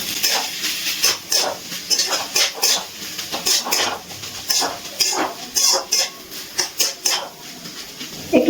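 A spoon stirs banana flower curry with small shrimp in a metal pan, giving repeated scraping and clinking strokes in an irregular rhythm over a faint steamy sizzle, close and moderately loud, with no voices.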